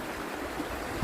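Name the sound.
river water running down over bedrock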